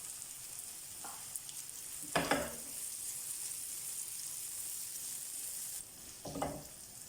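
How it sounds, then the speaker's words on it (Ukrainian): Diced bell pepper fries with paprika and spices in a hot pan for a shakshuka breakfast, a steady close sizzle with a few brief louder bursts as the food is stirred or shifted, and no talking. "І жаримо приблизно 2 хвилинки."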